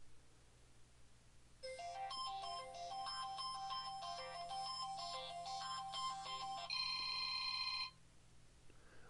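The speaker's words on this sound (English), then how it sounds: "Whenever you select a ringtone, it will preview that ringtone for you." Ringtone preview playing on a Samsung Nexus phone: a bright electronic melody of rapid chiming notes, ending on a few held tones, moderately loud over a quiet hum.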